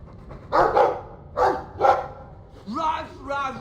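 A dog in the video game Dragon Age II gives three loud, close barks in a row, and a voice speaks just after them.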